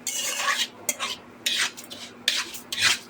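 Moong dal stirred and fried in a pan, with bursts of scraping and rustling from a spoon moving the lentils, coming in several separate strokes over a faint steady hum.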